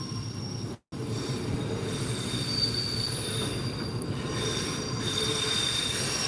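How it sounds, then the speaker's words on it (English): A Grand Central passenger train pulls into Lanyon Place station in Belfast, its wheels squealing loudly and steadily against the rails for the whole stretch, with a rolling rumble beneath and a brief dropout near the start. "Here we have the next Grand Central service."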